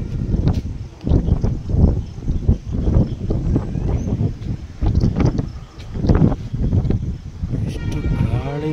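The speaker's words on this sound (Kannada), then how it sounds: "ಎಷ್ಟು ಗಾಳಿ ಇದೆ ಅಂದರೆ" Strong gusts of wind buffet the microphone at night near a dam, a heavy rumbling roar that swells and fades with the wind, while someone talks over it.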